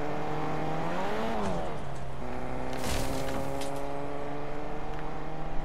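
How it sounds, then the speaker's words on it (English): Engine drone of a car in the video game Aimbot, steady harmonic hum with pitch shifts as it revs and moves, continuous through the clip with game noise around it. "I hear a car."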